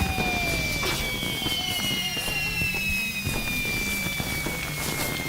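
Fireworks shot off in the online game LOTRO during a New Year's kinship party: whistling rockets rise and crackling bursts pop repeatedly over a dense, continuous backdrop of in-game effects.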